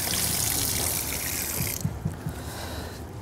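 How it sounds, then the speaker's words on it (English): Clean water runs through a motocross air filter being rinsed out, a steady broadband rush and trickle that stops abruptly partway, leaving softer drips and wet handling sounds. "Run it through with clean water a few different times."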